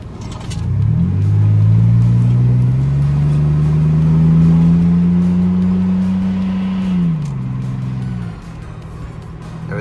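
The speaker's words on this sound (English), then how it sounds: "There is a slight engine noise there. I think it's the belt tensioner, because it hasn't been replaced." A Ford Explorer V6 engine runs and revs up, holding a steady smooth drone for several seconds before settling back, heard close with no talking; a slight belt tensioner noise is part of the engine sound.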